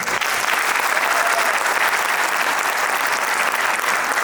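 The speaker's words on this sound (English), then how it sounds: "A louder round of applause for our Sanskrit" Loud, dense applause from a large audience at a school annual day at an international school, a steady continuous wash of clapping that holds evenly from start to finish with no voices.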